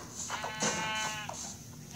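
A sheep in the Minecraft video game bleats in a couple of wavering calls close up, over a low steady game background hum.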